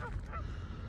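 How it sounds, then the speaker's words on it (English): Geese honking at one another on a beach, two or three short nasal calls early on, moderately close, over a steady low rumble of wind or surf. "listen to these geese here yelling at each other"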